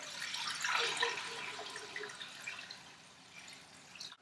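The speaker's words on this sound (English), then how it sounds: "to this pot, we're going to add, total water is going to be about 8 to 10 cups. So I'm going to put that in here." Water poured into a stock pot for gravy, a steady splashing, bubbling stream that is loudest at the start and gradually thins out over a few seconds, heard alone with no talk.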